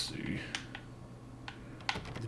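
A typewriter is struck with several sharp, irregular keystrokes, fairly close and moderately loud, over a steady low hum in an otherwise quiet room.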